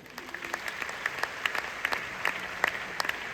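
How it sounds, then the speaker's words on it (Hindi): An audience claps together in a short burst of brisk, dense applause, fairly close and steady for a few seconds. "एक ताली होनी चाहिए।"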